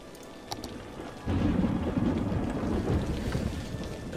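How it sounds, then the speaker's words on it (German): A low rumble of thunder rolls in and holds steady under rain-like noise during a storm in the Cities: Skylines video game, no voices present. "Ich gehe mal davon aus, dass gerade ein Blitz gewesen ist."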